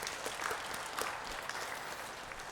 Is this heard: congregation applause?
yes